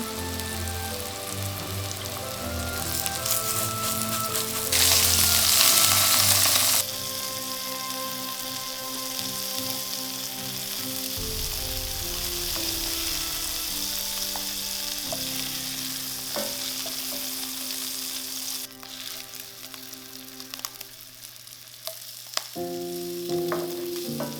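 Sausages frying in a pan, a dense continuous sizzle and spatter that holds steady throughout, loud and close, with occasional shifts as they are moved, no talk.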